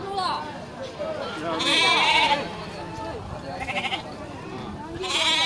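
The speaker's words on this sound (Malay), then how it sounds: "berarti ini domba-domba dari Bang Kari ini yang banyak terlihat segar" Sheep bleat at a livestock market ahead of a religious festival, several calls rising over steady crowd chatter and nearby talking, close and fairly loud.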